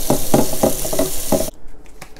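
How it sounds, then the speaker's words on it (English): Water from a faucet runs loudly into a pot being rinsed, splashing and gushing up close with uneven surges for about a second and a half before cutting off to quieter drips. "Give this pot a rinse as well."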